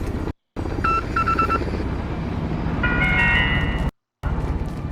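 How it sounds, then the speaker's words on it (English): Short electronic Morse code beeps from an in-game phone in Call of Duty Warzone, in two clusters, with the second group higher-pitched, over a steady low game background hum. "you will hear Morse code again and then a short jingle at the end"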